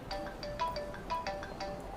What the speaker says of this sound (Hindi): डॉक्टर शायद आपका फोन बज रहा है।